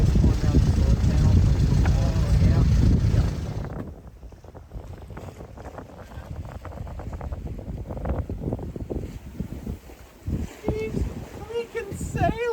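A sailboat under way in the wind gives a loud rush of wind and water for several seconds, then settles into a steadier hiss of wind with creaks and splashes while people talk on board.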